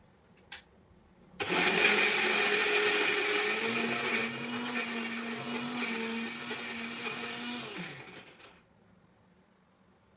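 An electric mixer grinder, loaded with tomato, green chili, coconut, ginger, spices and water, starts abruptly after a brief knock, whirs loudly and steadily for about seven seconds, then winds down to a stop.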